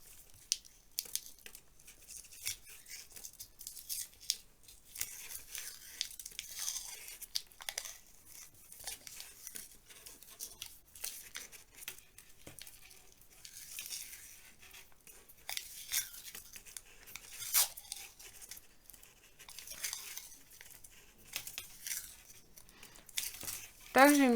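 Adhesive tape is torn and crinkled while wrapping a wire frame, giving close, irregular crackling rips that come in bursts, with quiet gaps between them.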